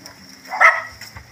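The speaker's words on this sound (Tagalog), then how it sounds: "Galit na galit yung aso." An angry dog gives one short, sharp bark in the middle of otherwise quiet surroundings, fairly close and loud against faint background sounds.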